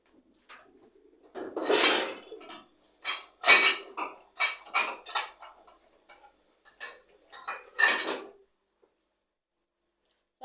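Dishes and cutlery clatter and clink in a house kitchen in short, irregular bursts close by while someone searches for a plate.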